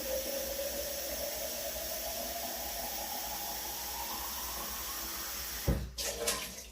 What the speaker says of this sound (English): Just filling the jars up with water.